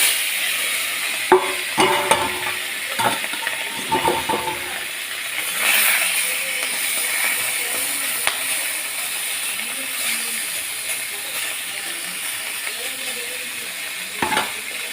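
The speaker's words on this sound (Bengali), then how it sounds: "যে এগুলো আছে আরেকবার ভেজে নেব।" Fish sizzling as it fries in oil in a wok, a steady hiss of frying carried through with occasional clinks and scraping stirs, close and moderately loud, no talking.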